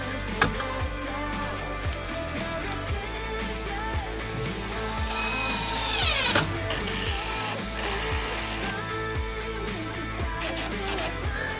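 Power screwdriver driving 100 mm screws into 150 by 50 wooden boards to fix wheels for a house foundation support, whirring bursts with ratcheting clicks and one louder rising whine, over a steady mechanical drone.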